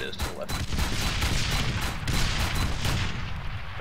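Vehicle-mounted guns fire in an ArmA III King of the Hill battle, a dense close barrage of rapid overlapping shots and booms that runs the whole time, with a voice speaking over it.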